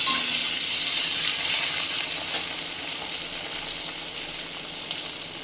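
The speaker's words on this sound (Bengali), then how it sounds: "টমেটো দিয়ে একটু নেড়ে নিচ্ছে" Onion and tomato frying in a pan as they are stirred, a loud steady sizzle with faint scraping, and no one speaking.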